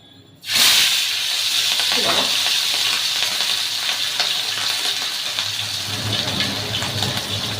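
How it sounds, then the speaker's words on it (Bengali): Fish is dropped into hot oil in a pan and bursts into a sudden loud sizzle. It settles into a steady, close frying hiss that lasts to the end. "তেলটা গরম হয়ে গেছে, এবার মাছটা ছেড়ে দিই"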